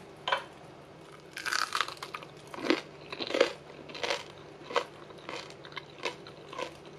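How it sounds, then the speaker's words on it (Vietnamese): Crisp crunching bites and chewing of thin, pan-fried cakes made from rolled cold leftover rice, about a dozen sharp crackly crunches in an irregular rhythm, close and fairly quiet with no talk. "Nó giòn tan luôn, bởi vì là mình đã cán cơm mỏng."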